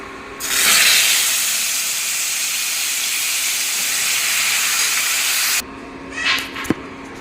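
Lentils are added to hot oil tempered with green chillies and five-spice, giving a loud, steady sizzling hiss that runs for several seconds and then cuts off, followed by a few faint kitchen clatters.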